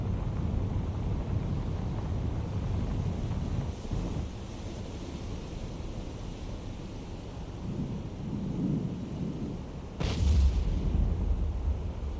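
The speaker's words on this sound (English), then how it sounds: "Loud explosion out there." Deep, rumbling explosions in the naval submarine game Cold Waters, low booming swells with a sharper loud blast toward the end, no talking.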